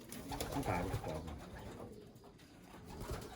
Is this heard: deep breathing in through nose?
no